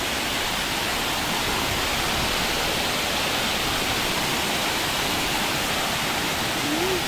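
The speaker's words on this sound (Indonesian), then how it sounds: "ini air terjun yang paling bagus loh yang ada di Indonesia" Matabuntu waterfall in Indonesia roars as a dense, steady rush of falling water, loud and unbroken throughout with no voices.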